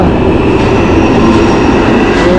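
A London Underground train departs from the platform, close and loud, with a continuous rolling rumble and metallic clatter heard on its own and no voices.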